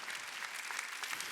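Steady applause from a church congregation at a Wednesday worship service, a dense wash of many hands clapping evenly at moderate level throughout, with no voices over it.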